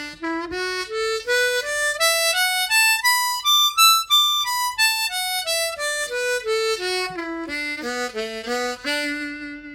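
A harmonica in second position runs a scale up through the octaves and back down in a smooth loop, bright single reed notes played evenly and close with no voices.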